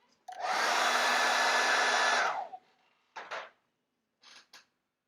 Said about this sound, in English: hit it with a hairdryer.